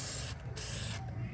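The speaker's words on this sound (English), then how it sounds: "I just want to spray some fluid film up around the top before I tighten these bolts" Fluid Film rust inhibitor hisses from an aerosol spray can around a ball joint on a 2005 Honda Element, a loud close spray with two brief breaks in just over a second.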